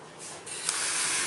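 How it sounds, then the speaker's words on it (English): White spray paint hisses from an aerosol can onto a 1/350 scale plastic model of the aircraft carrier USS Independence CVL-22, a close, steady spray that swells in short bursts. "hit it with a white air or a white spray paint"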